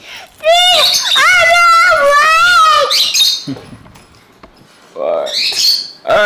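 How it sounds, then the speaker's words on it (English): A pet bird squawks loudly and close, a run of shrill wavering cries followed by a few more harsh calls after a brief pause, with a person talking nearby. "go for the bird, JJ."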